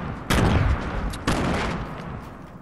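Two grenade blasts in a video game, each a sudden loud boom with a long rumbling decay, the second arriving about a second after the first, with no talking.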